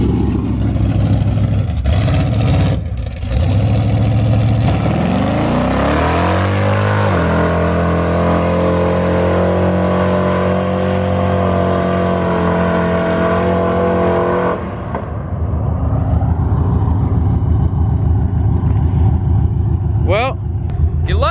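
A car engine revs hard and holds high RPM through a tire burnout, loud and close with a long sustained roar. The revs drop partway through and then climb again before the sound fades.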